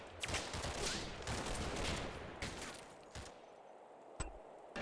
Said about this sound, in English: I continue to walk my mortars around the battlefield.